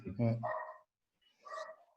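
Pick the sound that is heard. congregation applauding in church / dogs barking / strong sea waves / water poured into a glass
dogs barking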